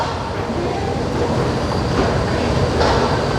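A Melbourne route 86 tram rolls past across the road, a steady rumbling wash of wheel and rail noise at moderate distance with no clear break.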